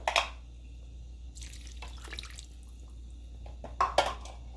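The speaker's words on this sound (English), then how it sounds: "Now I'm going to add about a cup of water." Water splashes and trickles into a pot in short bursts, with gurgling pours at the start and again near the end over a low steady hum.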